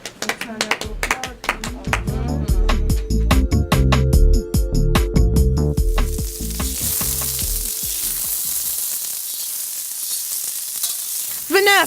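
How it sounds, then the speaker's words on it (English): Loud bacon sizzling and crackling in a pan, first broken by rhythmic tapping and clattering, then settling into a continuous hissing fry. "Bacon frying."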